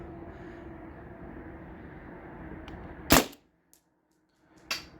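A single sharp, loud report from a modified T4E TR68 air gun firing a homemade slug, sounding over steady background hum, followed by silence and a fainter second crack.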